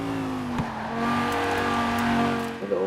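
A Lamborghini Huracán Performante driving in Forza Horizon 4, its engine holding a loud, steady tone that rises and falls slightly, with a brief sharp disturbance early on and another near the end, and no voices.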